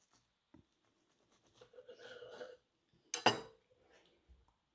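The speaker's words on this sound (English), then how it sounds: "Right, I'm going to cut these up. Get the chopping board." A knife cuts egg salad sandwiches on a chopping board in a kitchen: a few soft knocks and scrapes, then one sharp, loud clack against the board, with faint clatter after.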